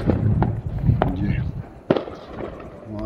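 Diwali firecrackers burst across a village during the festival, several sharp cracks spread over a few seconds against a dense rumble of distant bangs, with a voice talking over them.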